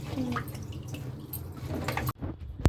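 Eggplant being washed in water in a village kitchen, with steady splashing and dripping close by and a sharper splash near the end.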